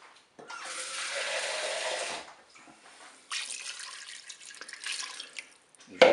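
Tap water pours into a Cookeo pot of spaghetti in two bursts, a gushing hiss that stops and restarts, close by and moderately quiet.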